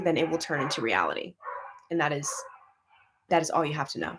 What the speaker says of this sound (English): Sorry for the dogs barking.